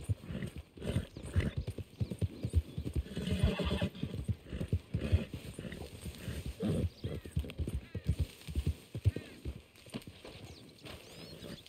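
Horse hooves clip-clopping at a steady walking rhythm, with a neigh and whinny, from the Red Dead Redemption 2 video game; the sounds are fairly close and even, with no talk.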